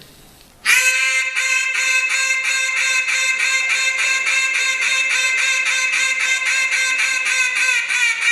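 A duck call blown by an experienced caller starts abruptly and runs as a rapid, unbroken string of bright, evenly pulsed notes, loud and close for about eight seconds.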